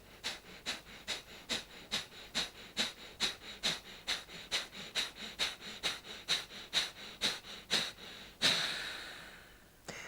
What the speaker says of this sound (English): 20 Kapalabhati through your right nostril.